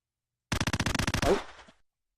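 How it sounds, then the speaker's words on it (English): Two MP5 submachine guns fire together in a VR shooter game, a loud rapid burst of about a dozen shots with a short decaying tail, no talk. "So this is how fast a MP5 does shoot."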